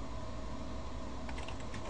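A web address is typed on a computer keyboard in a short, fast run of soft key clicks. It is quiet and close, with a faint background hum.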